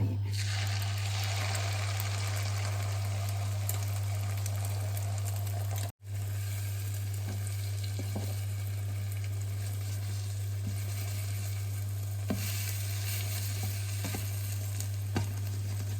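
Food fries in leftover oil in a pan, giving a steady, close sizzle with crackling pops that runs throughout over a constant low hum. It breaks off for a moment partway through, and no one talks.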